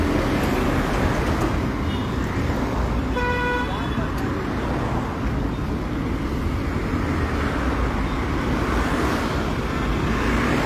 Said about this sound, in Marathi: हे पळया एम्बुलन्सान पेशंट सुद्दां आसा आणि ट्रॅफिक जॅम जाल्लो आसा